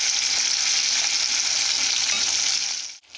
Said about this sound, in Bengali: মাছগুলো আমি ভালো করে ভেজে নিয়েছি,